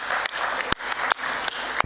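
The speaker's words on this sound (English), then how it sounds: "so we can clap hands for him" Hand clapping from the audience at the CAF 46th Ordinary General Assembly, a steady broadband patter with a few sharper claps standing out, moderately loud and with no voices over it.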